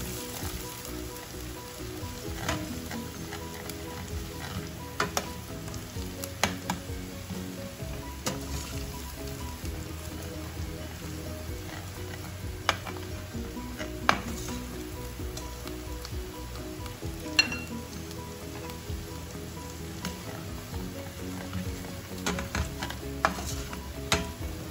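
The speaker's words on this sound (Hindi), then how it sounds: "थोड़ा सा लहसुन को फ्राई करूंगी।" Garlic fries in a pan with a faint, steady sizzle and scattered soft crackles throughout, with no talking.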